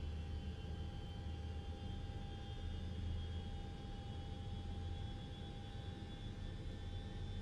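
Lockheed L-1011 TriStar in a flight simulator game, heard from the wing: a steady, droning jet engine roar with a low rumble and faint high whine, constant and unbroken, no voices.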